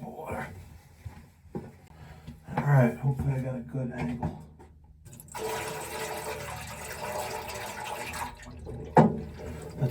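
A cup of water is poured into a Burnham Alpine gas boiler during a check for a hidden leak. Short splashes and a longer trickling pour stand out against quiet indoor background noise.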